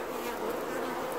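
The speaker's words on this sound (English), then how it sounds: "Okay, these bees are really cooking, and I'm going to give them some relief." Honey bees at a crowded, overheated July hive in Newfoundland produce a dense, steady buzz, loud and close, with no talk.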